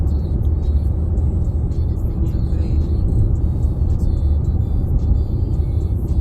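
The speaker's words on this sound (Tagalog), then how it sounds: "It's a traffic." Steady road traffic rumble with cars passing along a highway toward Napa, California, a continuous low engine and tire roar with faint speech briefly over it.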